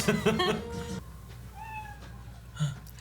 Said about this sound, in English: That's the cat that the person had.